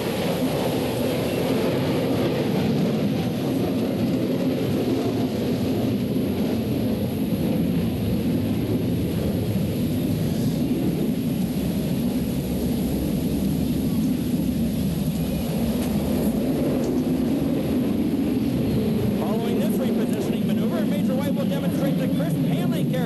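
F-16 Fighting Falcon jet at the 1987 Moffett airshow, a steady loud roaring rumble that carries through the whole stretch with no clear rise or fade, like an aircraft holding close by.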